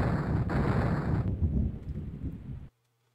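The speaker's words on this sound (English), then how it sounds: "Thunderclap." Thunderclap sound effect in a children's computer game, a loud rumbling crack that rolls and fades over a couple of seconds before cutting off abruptly into a quiet low hum.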